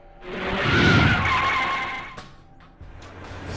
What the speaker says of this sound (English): The car is moving on its own.